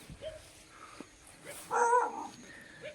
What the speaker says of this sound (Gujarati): અમારા કૂતરા જ અમને ભસે છે